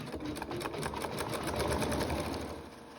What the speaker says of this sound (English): we'll just let that quilting stitch out